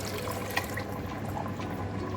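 Yakhni broth is poured into fried, browned meat in a pot while making yakhni rice, giving a steady close liquid splashing and gurgling that lasts throughout.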